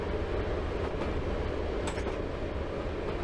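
A passenger train in Train Simulator 2016 on the Weardale and Teesdale network near Bishop Auckland gives a steady, even rumble of rolling wheels and running gear, continuous and moderately close, with no voices.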